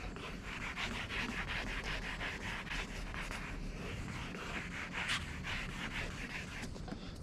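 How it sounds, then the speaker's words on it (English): A car headlight lens is worked over by hand with a wet abrasive, giving a steady, continuous scratchy rubbing that holds at an even level throughout, close and alone with no voices. "it's kind of like clay barring your headlight in a way, to an extent, or like wet sanding in a way"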